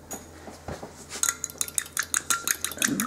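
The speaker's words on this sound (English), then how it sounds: "And whisk it up." Homemade hand sanitizer being whisked in a bowl with alcohol and a few drops of essential oil, quick rapid clinking and scraping of a whisk against the bowl, close and busy after a brief quiet start, no talking.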